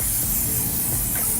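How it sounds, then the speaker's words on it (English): Hairspray hisses from an aerosol can onto hair in one continuous close, loud spray lasting the whole moment, with no talking. "I'm gonna take some hairspray and spray the top."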